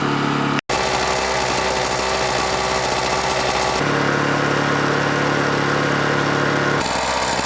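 Honda EU2000i portable inverter generator running steadily after a two-year cold start, a loud, even mid-pitched engine drone heard near the exhaust, with a brief cut and shifts in tone as it switches between units.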